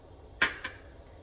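A spoon clinks twice against a pot while stirring sweet and sour sauce of rice vinegar and soy sauce, a sharp metallic tap followed quickly by a softer one, close and alone.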